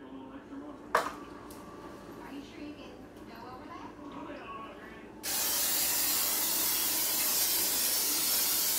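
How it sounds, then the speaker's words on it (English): A can of cooking spray hisses in a long, steady burst into a baking dish after a few quiet clinks and handling noises, close and fairly loud. "We're going to spray it."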